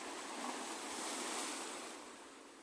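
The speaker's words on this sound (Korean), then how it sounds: "검푸른 바닷물은 파도치며 너울거렸다" Dark blue sea waves surge onto a soft sandy shore, a steady, distant wash of surf with a gentle swell and fade, and no voices.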